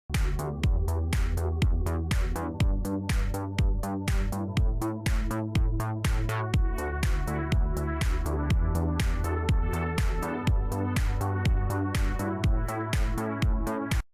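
An early draft of an electronic song plays alone, its tight, evenly repeating beat and layered synth chords holding steady at a loud level throughout.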